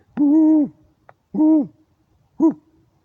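An owl hoots three times among trees at night, in loud, close, steady tones. The first two calls are long and even and the third is shorter, with quiet pauses between them.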